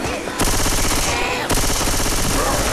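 Rapid automatic gunfire from the video game Left 4 Dead 2, loud and dense bursts of machine-gun fire with a brief pause before resuming, heard alone without talk.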